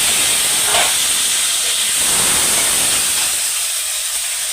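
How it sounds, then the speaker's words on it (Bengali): Washed potatoes frying in the hot oil left from frying koi fish, a loud, continuous close hiss and sizzle that holds steady throughout. "ওই তেলেতেই আলু তুলে দেবো আলুটাও ভালো করে ভেজে নেবো"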